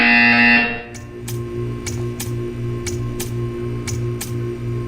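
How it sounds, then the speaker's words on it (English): A loud electronic buzzer from the video game Portal 2 sounds for about half a second, then gives way to a quieter, regular ticking pulse over a low hum. "You will hear a buzzer."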